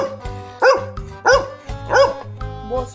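A pet dog barks in short yelping bursts, four clear barks spaced about two-thirds of a second apart, close and loud, pleading for a betel leaf while its owner teases it.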